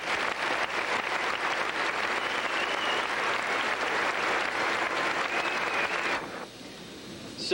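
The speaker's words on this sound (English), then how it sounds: "a round of applause." A school crowd claps steadily for honor roll and National Honor Society students at a 1991 high school assembly, the dense applause holding loud and even before cutting off abruptly near the end.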